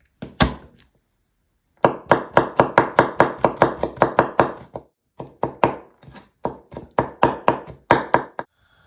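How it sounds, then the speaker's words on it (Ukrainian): Rapid knife chops on a cutting board finely cutting garlic cloves, a few quick taps, a pause, then two steady bursts of fast rhythmic chopping, close and crisp. "Беремо три зубки чесничка і дрібненько нарізаємо."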